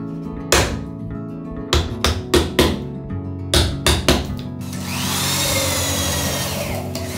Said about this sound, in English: As I finish drilling the holes, I finish and join the boards.